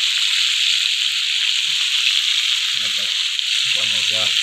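Crispy fried chicken sizzles steadily in hot oil in a pan, a loud, constant bright hiss throughout, with a few soft low bubbling pops toward the end.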